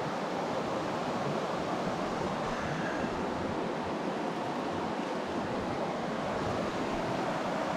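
Steady, continuous rushing of creek water flowing beside a blackberry bush in high country, a dense broadband wash holding constant throughout with no voices.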